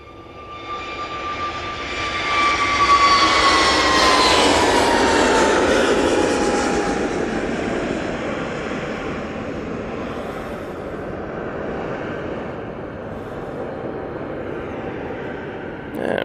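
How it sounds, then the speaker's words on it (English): An Airbus A320neo jet takes off at Manchester Airport with a loud, steady engine roar. It builds over the first few seconds, then slowly fades as the aircraft climbs away, with no talk. "Lots of fun show with this A320neo."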